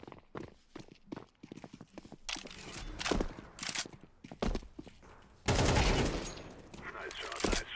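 Gunfire rings out in sharp bursts and isolated cracks, some single reports and a longer heavy volley near the end, loud and close, with voices talking between the shots.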